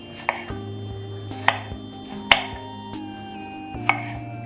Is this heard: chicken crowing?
no